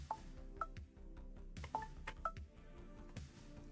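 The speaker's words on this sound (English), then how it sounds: "let me check what's my phone beeping." A phone emits several short, faint beeps in a quiet workshop during a camera build, spaced irregularly amid soft handling clicks and background hum.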